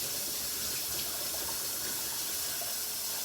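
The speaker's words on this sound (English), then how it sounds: "Right now, I'm just gonna get these washed up so that the butter doesn't harden." Steady, hissing tap water running into a kitchen sink while dishes are washed up after cooking creamy chicken ramen, a continuous close wash with no talking.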